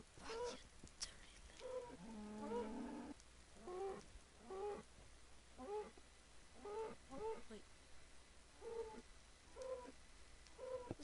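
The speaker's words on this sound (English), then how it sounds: "It's nice, they make cow sounds." Seals in a video game let out repeated short, lowing cow-like calls in a steady series of bursts, fairly close and clear, with a person talking at times.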